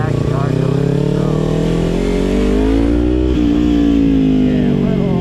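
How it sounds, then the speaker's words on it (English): Engines rev at an evening car meet, with strong harmonic engine tones rising and holding steadily near and loud, mixed with voices nearby. "they actually are doing it"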